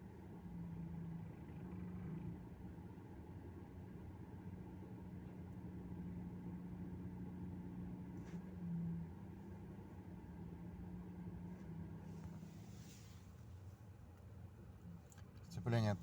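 A Lada Vesta engine runs steadily under load as the clutch is released, a low even hum and rumble throughout, with a brief speaking voice near the end.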